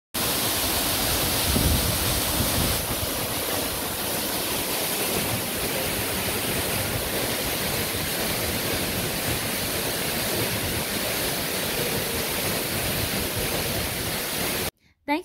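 Sandpit Waterfall in Buea, Cameroon, pours in a steady, dense roar of falling water that stays loud and unbroken for the whole stretch before cutting off abruptly.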